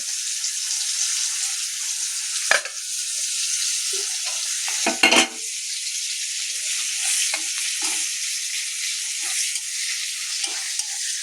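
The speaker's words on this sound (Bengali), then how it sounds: "কুমড়ার তরকারি ভাজার জন্য মা এখন পেঁয়াজ আর লঙ্কাকে একটু লাল লাল করে ভেজে নিচ্ছে" Onions and chillies fry in a pan for a pumpkin curry, giving a steady close sizzle with occasional scraping stirs and a couple of louder clatters.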